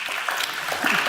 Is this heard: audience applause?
yes